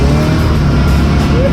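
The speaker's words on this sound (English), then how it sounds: "Tow truck lifting." A tow truck's engine revs loudly and steadily as the wrecker lifts, a close, constant low roar with no breaks.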